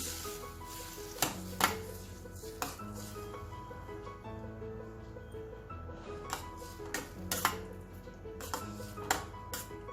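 Drumstick and toor dal curry gets stirred in a pot, with scattered metallic knocks and scrapes of a spoon against the vessel over a steady background tone.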